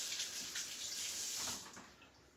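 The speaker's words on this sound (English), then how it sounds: "And I'm just going to give this a quick rinse." Vegetables are rinsed in water with salt and bicarb, giving a steady, close splashing rush of running water that eases off toward the end.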